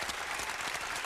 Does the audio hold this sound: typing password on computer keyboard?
no